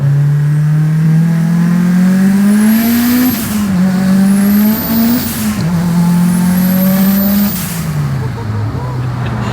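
Loud, close interior run of an 808-horsepower Mitsubishi Evo VIII on a street pull at 47 PSI of boost: the engine climbs steadily through several gears with brief dips at the shifts and turbo whooshes, and voices are faint underneath.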